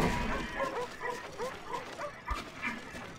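Dogs barking and yipping in the Wii version of Black Ops, several short woofs in a loose irregular run over steady game background noise, fairly close and moderately loud.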